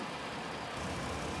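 A 2020 Ford Explorer Police Interceptor with collision damage runs steadily at idle, a low continuous engine drone with broadband hum, air conditioning likely blowing, no talking.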